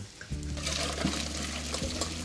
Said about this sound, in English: So when the pasta's cooked, I'm just going to strain it just through a colander.